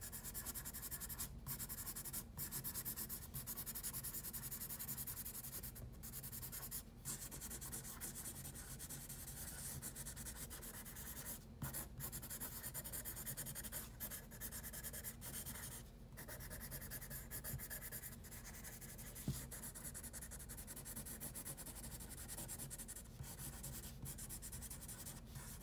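Continuous scratchy rubbing of a marker or pen across paper while inking the black lines of a basketball drawing, sped up, with brief pauses between strokes, close and quiet.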